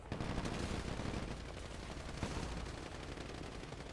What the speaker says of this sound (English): I'm firing inside.